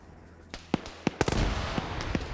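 Grenade explosions during a team video game match: a handful of sharp, cracking pops spaced apart, then a heavier close blast that leaves a rumbling tail, followed by a few more distant snaps.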